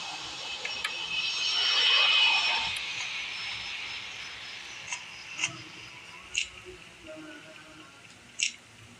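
An airplane engine hums as a broad whine that swells and fades, followed by a few sharp clicks and taps while the hum continues faintly underneath.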